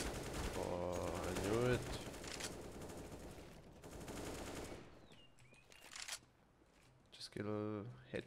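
Gunfire in Counter-Strike: Global Offensive on the Overpass map, with bursts of rapid automatic shots and clattering effects, loud at first then dropping away before a final short burst, under occasional talk.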